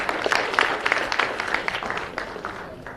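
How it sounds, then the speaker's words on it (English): An audience at a seminar in a hall claps in a round of applause, sharp individual claps standing out within the crowd's clatter before it thins and fades toward the end. "Big round of applause, everyone."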